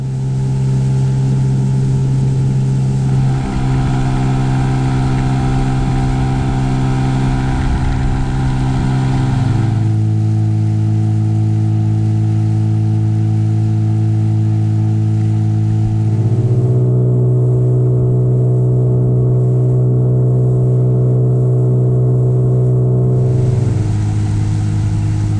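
A motorboat cruises northwards along the Ardnamurchan coast, its engine a loud, close, steady drone that shifts pitch in distinct steps every several seconds as the throttle changes, with no talking.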